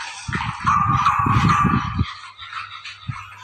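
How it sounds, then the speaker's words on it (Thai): A pack of pet dogs barks and yips in a rapid, loud flurry close by for about two seconds, with a whiny overtone, then trails off into quieter sounds with one last short yelp. "มันเห่าแล้ว"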